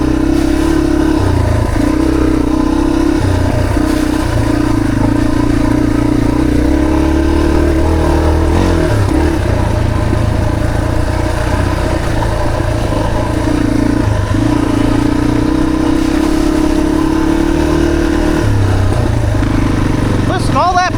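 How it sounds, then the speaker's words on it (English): A dirt bike on a rooty mountain trail revs its engine in a steady, rough drone with occasional popping backfires, close and loud, with a person talking over it throughout. "Listen, all that backfiring."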